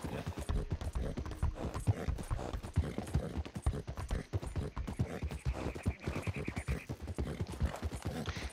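Rapid video game hoofbeats of a galloping horse pound in a quick steady rhythm, close and continuous, with a faint high tone partway through.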